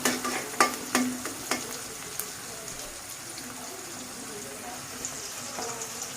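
Onion and green chili frying in soybean oil in a pan, a steady soft sizzle with a few sharp stirring clinks at the start, close and moderately quiet, with no talk.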